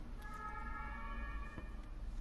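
A fire engine siren wails outside, a steady faint tone heard from a distance over low background rumble.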